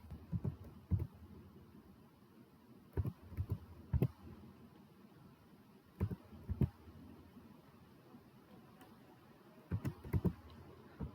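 Someone types an Aadhaar number into a computer registration form, the keyboard giving short scattered bursts of soft key clicks with pauses between them, close but quiet.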